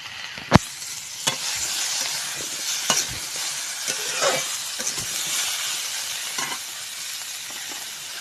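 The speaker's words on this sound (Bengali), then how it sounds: "এটা লাল লাল হয়ে গেলে আলু আর ডাঁটাটা ঢেলে দেবো।" Potatoes and vegetable stalks frying in a pan over a dry-wood fire: a steady, close sizzle and hiss throughout, with a few sharp clacks of stirring.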